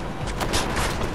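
Gunfire in the video game Deus Ex: Mankind Divided, a rapid fusillade of shots in quick bursts, moderately loud and continuous over a short stretch.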